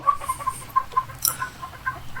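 Several chickens clucking softly nearby inside a coop, short repeated clucks in an uneven rhythm over a quiet background, with no talking.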